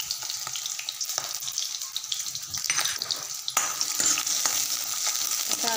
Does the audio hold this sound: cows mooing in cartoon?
no